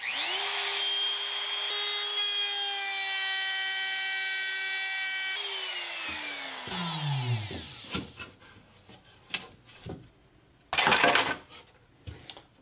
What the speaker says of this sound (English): And this is to route out the handles.